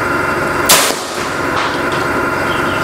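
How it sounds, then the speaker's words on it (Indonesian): A Predator OD 38 Monolite PCP air rifle fires a single sharp shot, loud and close, with a brief crack and short tail over a steady background hiss. "Tembakan keempat"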